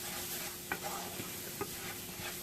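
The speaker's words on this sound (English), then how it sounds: "I'm just going to stir that like that." A flour and butter roux cooks in a skillet for gravy alongside oxtails, a soft low sizzle with a few quiet scraping strokes of stirring, faint and close.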